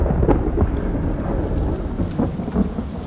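Steady rain pours with rumbling thunder rolling through it, a sound effect within a stage musical; the downpour runs loud and continuous for about three seconds with several deeper thunder swells and no voices.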